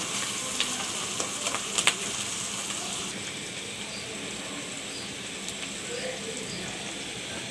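Tilapia fish fries in mustard oil with a steady, even sizzle throughout, a few sharp spits and clicks early on, at moderate level.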